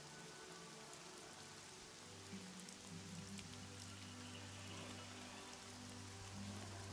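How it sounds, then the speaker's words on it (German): Steady rain pours through a storm with a rough sea churning below, a dense, even wash of noise over a constant low rumble, unbroken and without voices. "Regen fällt, Sturm kommt auf und die See wird unruhig."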